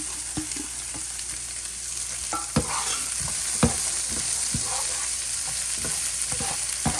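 Onions frying and sizzling in a pan for Tamil-style egg podimas, with a steady hiss throughout and sharp scrapes and clinks of a spatula stirring against the pan.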